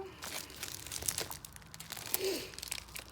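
Plastic wrapping on a diamond painting kit crinkles and tears as it is opened, with close, irregular rustling bursts and no speech.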